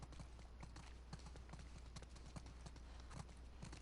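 Horse hooves clip-clopping in The Last of Us Part II, a quiet steady run of rhythmic hoof strikes over a low constant hum, faint and continuous.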